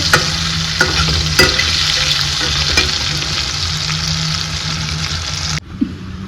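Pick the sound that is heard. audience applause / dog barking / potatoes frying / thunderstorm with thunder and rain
potatoes frying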